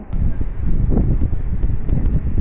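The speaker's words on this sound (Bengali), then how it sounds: "প্রচুর বাতাস দিচ্ছে।" Strong wind blows before rain under dark, heavy clouds, roaring loud and close in low gusty buffets with rustling, as if battering the microphone, continuous throughout with no talk.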